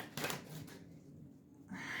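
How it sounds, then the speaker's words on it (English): Tarot cards being shuffled by hand, a few soft papery riffles and shuffles, quiet and close. "My cards are sticking together."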